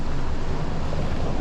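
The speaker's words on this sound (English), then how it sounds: "It's pretty windy out" Strong wind blowing at a fishing spillway, a loud constant broadband roar buffeting the microphone with no other distinct sounds.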